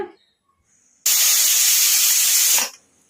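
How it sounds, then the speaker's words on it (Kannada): A pressure cooker on a stove lets out one loud, steady blast of hissing steam from its whistle, lasting about a second and a half before cutting off. "ಕುಕ್ಕರು ನಾಲ್ಕು ವಿಜಲ್ ಆಯ್ತಲ್ಲ ಈಗ ಸ್ಟವ್ ಆಫ್ ಮಾಡ್ಕೊಂಬಿಡೋಣ"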